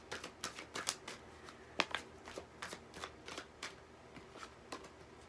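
Cards drawn and flicked from a pile during a tarot reading, a quiet run of crisp papery snaps and shuffles in an uneven, steady rhythm, close by with no voice over them.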